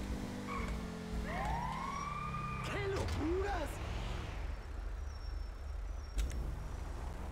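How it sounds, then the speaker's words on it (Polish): In the video game GTA V, an ambulance siren whoops and wails with rising and falling sweeps at moderate distance, mixed with traffic and engine noise, while people talk in Polish. "Czemu tam jest karetka?"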